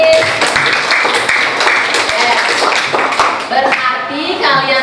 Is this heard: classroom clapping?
yes